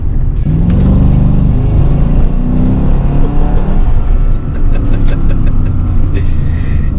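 A 475hp Mercedes-AMG with a big German engine revs hard and loud right up close, a deep roaring growl that swells and rumbles with throttle blips throughout.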